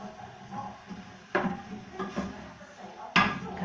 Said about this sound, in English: Kamande, you stir it very well. I'm going to stir it very well.